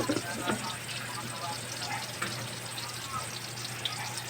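Garlic and onion sautéing in a pan, a soft continuous sizzle with a low steady hum beneath and faint scattered crackles, fairly quiet throughout.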